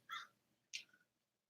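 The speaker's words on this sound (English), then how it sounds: "the crows are very excited" Two loud, harsh caws from crows outside, each short and clear against a quiet background, with a brief pause between them.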